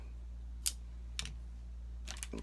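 A few sharp, crisp snips, spaced apart and then a quick cluster, as scissors cut open a CAO Big Block V770 FlatHead cigar in a quiet room.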